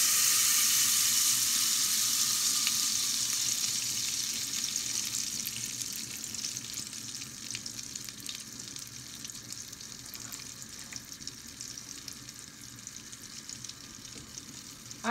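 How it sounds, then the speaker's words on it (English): Onion frying in hot oil in a pot, a loud continuous sizzle close up that gradually settles into a softer crackle, with occasional light stirring scrapes and no talk. "Add your oil to the pot and add in your onion. Stir and fry"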